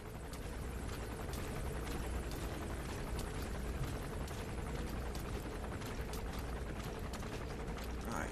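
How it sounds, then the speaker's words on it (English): A helicopter flies in Metal Gear Solid V: The Phantom Pain, giving a steady, faint rotor drone with a mechanical rattle that holds evenly, with no break, across the whole stretch. "There's the helicopter."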